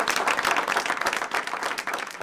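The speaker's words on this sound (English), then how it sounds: "Round of applause" A brief round of applause from an audience, dense continuous clapping filling the whole moment at moderate loudness, with no voices over it.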